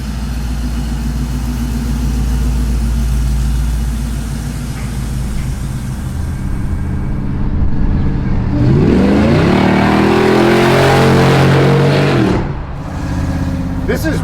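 Supercharged 1968 Ford F100 pro touring truck, its engine running loud and close before revving hard, with pitch climbing through the middle of the clip and dropping back near the end.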